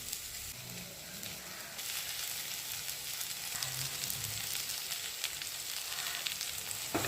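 Eggplant frying in a pan with turmeric, lentils and asafoetida, a steady close sizzle and hiss that grows louder partway through, with faint stirring scrapes and no talking.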